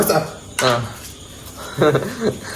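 Cooking pan and dishes handled in a home kitchen, a few sharp metallic clatters and clinks spaced apart, close by, with some talk.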